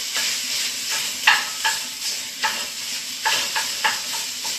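Pizza pot pie filling sizzles in a pan as its liquid cooks off, a steady close hiss broken by regular stirring scrapes.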